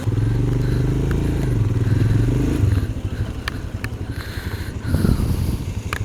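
A Royal Enfield Himalayan motorcycle with a failed relay being push-started on a monsoon ride near Kodaikanal, a loud rough engine chugging close by, then sputtering into uneven clatter and scraping as it catches and falters.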